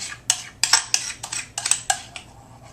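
Metal utensils clinking and scraping against a dish while spreading raw chocolate banana coconut cream pie filling, about a dozen sharp close taps and scrapes in irregular rhythm.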